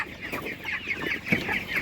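Broiler chickens cluck close by, a quick run of short, uneven clucks and murmurs at moderate loudness with no voices.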